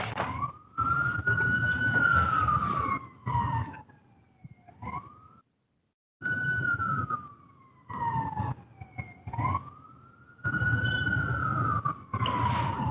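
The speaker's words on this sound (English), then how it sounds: "we're hearing the siren from your end" Wailing emergency siren rising and falling repeatedly, heard over a low rumbling background with abrupt dropouts and a brief silent gap.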